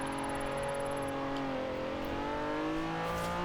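A Honda car engine in Forza Horizon 4 revs steadily, a sustained harmonic drone that rises and falls gently as the throttle is worked, with an even, continuous roar and no talking.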